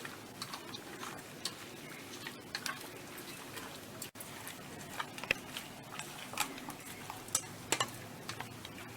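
Mutton is mixed by hand with turmeric, chili powder and sugar, making a soft, continuous squelching and stirring texture broken by light irregular ticks and clicks, close up, with no speech.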